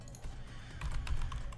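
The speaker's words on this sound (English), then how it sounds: "Why am I typing?" Fast, close clicking of keys on a computer keyboard during an online Pokémon Showdown battle, an irregular patter of keystrokes with no talking.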